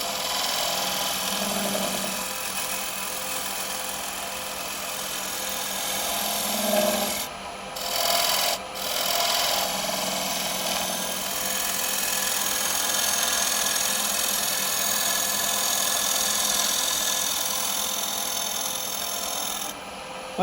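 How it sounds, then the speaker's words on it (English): A carbide cutter scrapes shavings from the bottom of a wooden bowl spinning on a lathe, making a continuous close rubbing rasp with a few brief breaks. "Hope you can see the shavings you get off this cutter."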